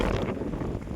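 Strong wind gusts at Vishramgad fort, buffeting the microphone in a dense, continuous low roar for about a second with no voices.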